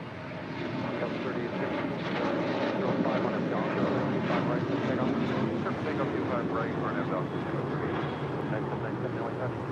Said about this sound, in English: the Aeromexico Connect Flight 2704 coming up from Monterrey, Mexico. It's an E190 LR.